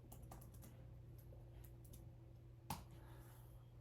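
Soft, irregular clicking of keys on a computer keyboard, faint and close, with one slightly louder tap near the end, while typing into ChatGPT.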